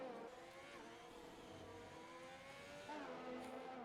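Ferrari race cars circle the British GP track in an F1 video game during qualifying, their engines whining and shifting pitch at a faint, steady volume with no commentary.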